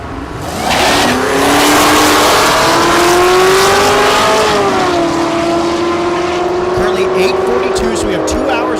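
A supercharged drag racing car roars loudly at Thunder Valley in Noble, Oklahoma, its engine tone climbing and holding in a sustained, close, harmonically rich howl.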